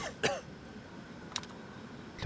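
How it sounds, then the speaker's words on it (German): A character in a dinosaur survival video game lets out a few short, sharp coughs, spaced apart and fairly quiet, with faint clicks between them. "Ich hab angefangen zu husten."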